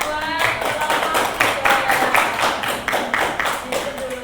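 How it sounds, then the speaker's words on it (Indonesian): A classroom group claps after giving a presentation, a dense run of steady overlapping hand claps at close range, with some voices mixed in. "tepuk tangan buat kelompok"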